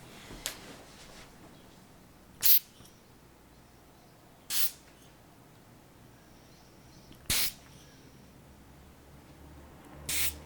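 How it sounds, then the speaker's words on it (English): Red cedar mist sprayed from a hand spray bottle, four short, sharp hissing bursts spaced a few seconds apart over near silence, close and distinct. "So I'm just going to spray down your spine."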